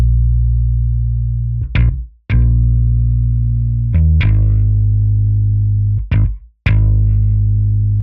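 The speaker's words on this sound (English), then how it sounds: "I wanted the bass to have a bit more of a harsher attack to it, so I used this" A deep bass from a guitar VST plugin, shaped for a harsher attack, plays long sustained notes with sharp, bright plucks at each change, loud and up front with brief gaps between phrases.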